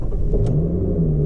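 A Lotus Evora's engine rumbles into life and settles into a steady, close idle drone after a short cranking burst, heard alone.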